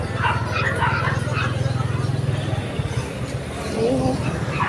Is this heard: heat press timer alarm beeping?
no